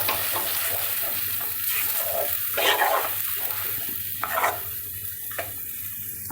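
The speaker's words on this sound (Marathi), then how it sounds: "चांगला असं मिक्स करून घ्यायचं त्याला छान" Malvani-style mackerel tikhla curry is stirred and mixed in a hot pan, giving a close, continuous sizzle broken by scraping strokes and bursts of bubbling, with no voices.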